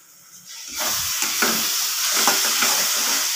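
Spice masala with a pinch of sugar sautéing in a hot pan, starting quiet and swelling into a dense, loud hiss and crackle, with scraping stirs close by and no talking.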